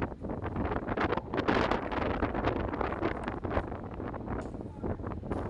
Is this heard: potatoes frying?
no